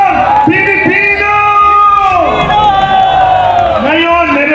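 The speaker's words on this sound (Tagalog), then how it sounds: "Palakpak na may kasama sigawan at isigawan, Pilipino!" Large Filipino crowd at an outdoor rally cheering and shouting in long sustained yells, with a voice bellowing loudly over the roar and some clapping underneath, all close and forceful.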